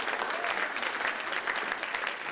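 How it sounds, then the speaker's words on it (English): A studio audience breaks into steady applause at a comedy talk show, dense clapping that fills the room evenly throughout with no pauses. "Hold for applause."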